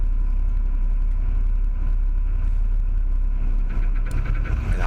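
Race car engine running after start-up: a loud, steady low rumble with a rough, throbbing idle, close by, and a slight rise in roughness near the end, with no talking.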